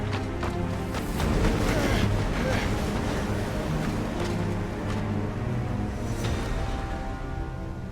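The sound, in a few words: wind blowing in Final Fantasy XVI video game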